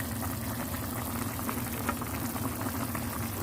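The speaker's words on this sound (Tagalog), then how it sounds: "Yung tofu, ilagay, pakuluan natin." Tofu simmering in kimchi stew, a dense, continuous bubbling boil close up and fairly loud, with no voices.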